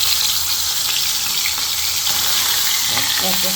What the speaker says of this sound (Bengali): তো মাছগুলো হালকা ভেজে নেব